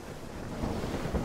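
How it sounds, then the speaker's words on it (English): Water foams and rushes at the stem of a sailing ship under way with its sails full, a steady wash mixed with wind buffeting the microphone. "The sails fill with wind and water foams at the stem."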